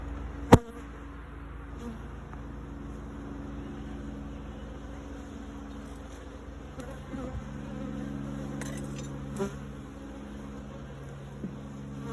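Steady, low droning hum of many honey bees buzzing close by during a hive inspection, continuous throughout with a sharp click near the start.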